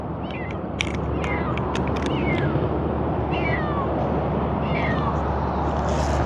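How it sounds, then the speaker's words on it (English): A cat meows repeatedly from roadside bushes, several short, thin cries rising above a loud, steady wash of road and wind noise. "I think I have a cat."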